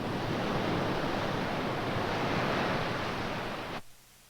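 Ocean surf breaks in a continuous loud, hissing wash of water that fills the scene, then cuts off abruptly near the end, leaving near silence.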